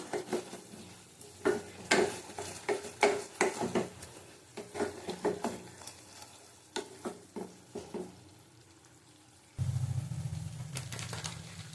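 Spice paste for egg curry being stirred and fried in a pan over low heat, close repeated scraping strokes of a spatula over a soft sizzle, ending in a steadier low frying hum.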